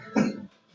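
A single short, muffled cough, close and moderately quiet, with near silence after it.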